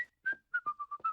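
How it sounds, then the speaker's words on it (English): Bart from The Simpsons whistles the show's theme song, a short run of clear, close whistled notes, alone. "At number 3, we have Bart whistling the Simpsons theme song."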